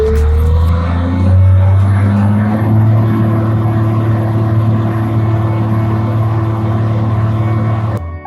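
A machine's engine roars loud and close, holding a heavy, steady drone during a torque converter stall test for transmission diagnosis, with pitch shifts early as it settles under load, then an abrupt cut near the end.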